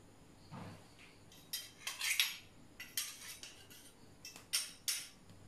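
A spoon stirs dosa batter with added baking soda in a steel vessel, producing a quiet series of sharp metallic clinks and scrapes in irregular bursts, near and alone.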